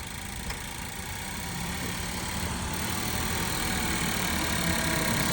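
A City of Norfolk auction vehicle runs after a jump start, giving a steady, dense engine drone that holds constant and gradually grows a little louder, with no talking.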